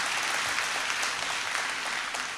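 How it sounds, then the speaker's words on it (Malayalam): An audience at a film, television and media awards ceremony applauds steadily, a dense, even wash of many hands clapping throughout, with no speech over it. "നന്നായി ഒരു കയ്യടി കൊടുക്കണം എന്ന് ഞാൻ അഭ്യർത്ഥിക്കാം"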